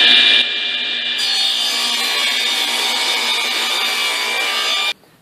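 A saw guided by a miter gauge cuts through wood with one steady, loud, close whine that lasts about four seconds and then stops abruptly, with no talking.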